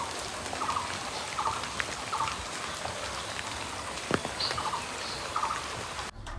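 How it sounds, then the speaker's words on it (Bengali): Steady rain falls by a riverside, a continuous hiss of drops with a brief louder patter near the middle, a few faint bird calls mixed in, and no voices. "বৃষ্টি"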